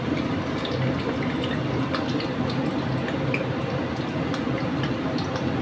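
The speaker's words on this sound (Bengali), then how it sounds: "আচ্ছা, এইবার আমি তেলে দেব এই গোটা গরম মশলা গোটা" Whole garam masala and a bay leaf sizzle steadily in hot oil for a mutton korma, a dense constant crackle with small pops throughout and no voices.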